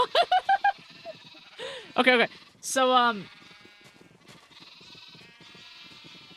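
Minecraft sheep bleat several times in short, wavering calls near the start and middle, fairly loud and close, with a player's brief speech mixed in and quieter game sounds continuing after.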